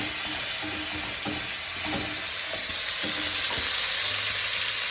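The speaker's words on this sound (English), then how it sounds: "Right before it's turning to brown, like so, I'm adding the tomatoes." Garlic and freshly added tomatoes sizzle and hiss in a pan over high heat, a loud continuous fry with a few stirring clinks and scrapes.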